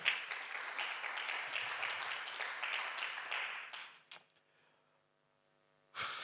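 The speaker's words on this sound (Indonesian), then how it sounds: "berikan tepuk tangan bagi Tuhan Yesus." Church congregation applauding during a sermon, a wash of clapping for about four seconds that cuts off abruptly, leaving a quiet room with a faint hum before a brief burst of noise returns.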